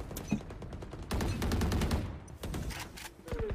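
Rapid gunfire from the video game Valorant crackles in dense automatic bursts and single shots, loud and close throughout.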